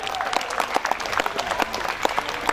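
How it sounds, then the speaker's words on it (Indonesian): A crowd applauds at a kung fu belt-promotion ceremony in Medan, a brisk, fairly close patter of many hands clapping unevenly throughout. "Dan kemudian tepuk tangan."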